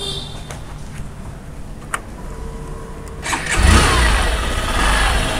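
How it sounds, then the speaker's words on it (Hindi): A Hero Passion Pro BS6 motorcycle engine cranks and catches after a few quiet clicks, then settles into a steady, close idle that holds to the end. "मैं आपको एक बार इसका इंजन साउंड सुना देता हूँ।"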